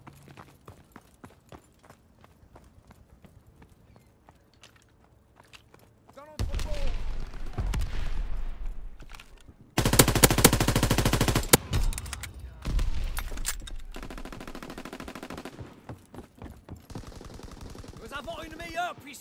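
Rapid machine gun bursts and gunfire crackle through a Call of Duty: WWII team deathmatch, loud sustained volleys after a quieter opening, with a voice speaking briefly over the action.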